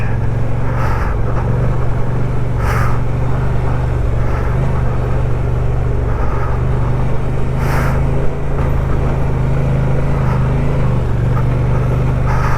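Vehicle engine droning steadily with low rumble while pushing through deep patches on a cross-Canada trek, continuous and close for the whole stretch with no talk over it.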